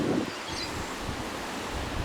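Strong wind during a dust storm gusts steadily across the microphone with rustling noise, a continuous near roar lasting the whole stretch and no voices.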